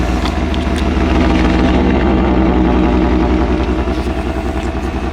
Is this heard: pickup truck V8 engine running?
yes